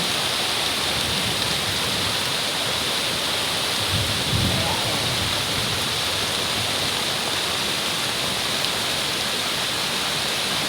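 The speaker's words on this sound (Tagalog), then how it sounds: "Imagine mo yung tubig na yan, kung ilang oras yan na puro bagsak lang dun sa baba" A constant heavy roar of rushing, falling water fills the scene, broad and unbroken like a strong stream or waterfall nearby.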